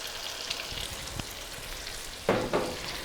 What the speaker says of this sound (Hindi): टमाटर को भी हम तोरियों के साथ भून लेंगे।